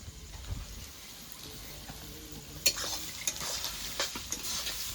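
Onion, tomato and green chili fry in a pan for a chicken and chickpea curry, a soft steady sizzle broken by scraping strokes of a spoon as the mixture is stirred.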